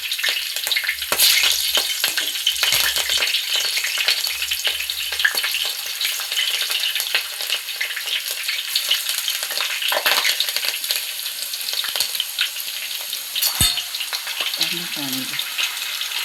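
Mustard seeds, dried chilies and green chilies fry in hot oil with a steady, dense crackling sizzle throughout, punctuated by occasional sharper pops and brief utensil clinks near the end.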